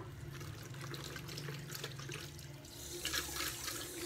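Tap water runs steadily into a sink during washing up, a soft continuous rush that swells a little toward the end, quiet and alone.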